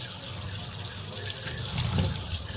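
Tap water runs steadily into a sink while a capsicum is washed under it, a continuous close splashing rush with no talking.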